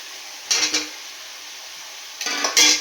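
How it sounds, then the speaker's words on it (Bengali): Potatoes drop into a pan of spice paste that has released its oil, making two short bursts of clatter and sizzle against a quiet background. "মশলাটা থেকে আমার তেল বেরিয়ে গেছে। আমি এর মধ্যে আলুগুলোকে দিয়ে দিচ্ছি।"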